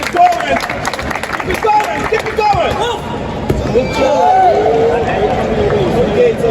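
Crowd at an African athletics championship in Douala cheering and clapping as a long jumper from Nigeria makes his run-up, a steady roar of spectators under a commentator's voice.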